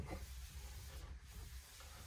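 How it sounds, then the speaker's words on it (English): Liquid sprayed onto the glass of a Kawasaki Ridge 2-door UTV window before ceramic tint goes on: a steady broadband hiss runs throughout, close and fairly quiet, with no talking. "So I want to spray the top edge of this"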